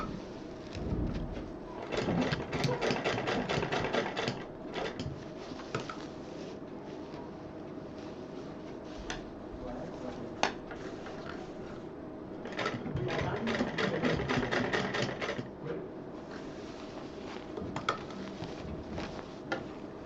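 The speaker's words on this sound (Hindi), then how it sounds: "बस उसके नीचे तक इसको पूरा स्क्वायर में सिल देंगे" A sewing machine stitches a square seam on a handmade purse below a ring, running in bursts of rapid mechanical clatter with pauses between, fairly close.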